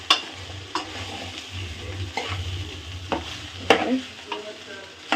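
Egg is stirred and fried in a pan with little oil while making egg fried rice: a soft continuous sizzle runs under repeated scraping and tapping strokes of a spatula, close and fairly quiet.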